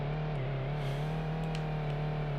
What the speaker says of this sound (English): you can hear the RPMs go up. And then as soon as it grips, you hear the RPMs drop.